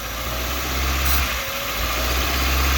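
A car engine idles steadily with a low, continuous rumble and slight vibration, close by, with no voices, while carbon deposits are being burnt off.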